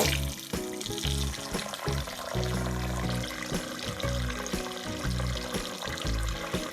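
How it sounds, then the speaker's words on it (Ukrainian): Cold water pours steadily onto pork belly in a pot, a gurgling liquid stream with some clunking and a low hum underneath, no talking. "Заливаю м'ясо холодною водою."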